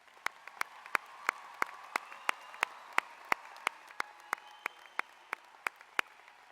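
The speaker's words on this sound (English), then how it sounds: "Let's give all our graduates one more round of applause." An audience claps for the graduates at a Westside High School graduation ceremony: sharp, evenly spaced claps ring out in a steady rhythm over a faint hall background, with no voices.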